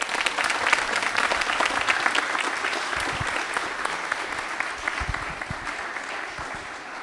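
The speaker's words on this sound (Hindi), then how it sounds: "मयंक चौधरी का जवाब तालियां दे दीजिए, बिल्कुल सही है।" A studio audience claps for a quiz contestant who answered correctly, a steady wash of applause that carries on for several seconds at moderate distance and fades slightly near the end, with no talk over it.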